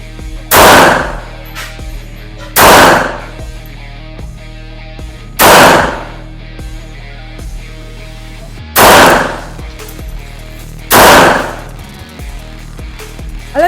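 Five loud, sharp shots from a small Smith & Wesson M&P Bodyguard 380 pistol ring out at spaced intervals, each with a brief ringing echo, separated by quieter stretches of background.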